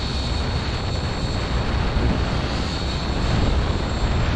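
An Align T-Rex 550X RC helicopter flies a loop, its rotors and motor giving a loud, sustained, steady drone that swells slightly toward the end, heard alone in open air.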